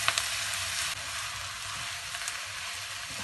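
Onions sautéing in a frying pan for Sri Lankan seeni sambal, a continuous close sizzle with a brief stir or scrape at the start, no talking.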